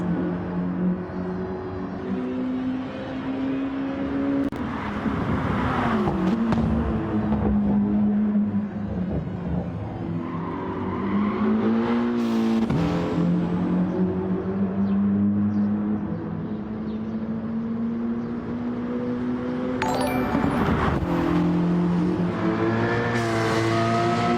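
Race car engines whine steadily in a racing video game during a CRT championship round, with a continuous high-revving drone that rises and falls as gears shift, loud and unbroken throughout.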